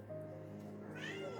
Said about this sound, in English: oh, my cat wants out.